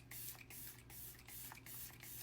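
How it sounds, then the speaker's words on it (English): Hard Candy Grip On Lock setting spray misted in several short, airy bursts close by, a steady hiss pulsing in regular rhythm with no talking. "My first layer of setting spray, this is the Grip On Lock from Hard Candy."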